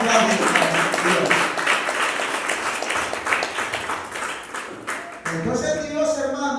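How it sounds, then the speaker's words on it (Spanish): A church congregation at a Christian worship service claps loudly and steadily for about five seconds, a dense crowd applause that fades before a voice starts speaking. "Más fuertes aplausos a Dios."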